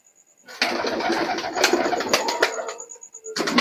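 Teddy pigeons coo in close, breathy bursts that run almost without a break, then stop briefly and start again at the end. No one speaks.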